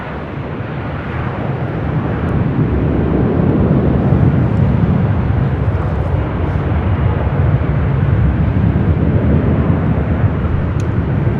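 A fixed-wing airliner rolls and climbs off runway 24 left at LAX, a steady, loud, broadband jet roar that builds slightly and holds throughout with no voices.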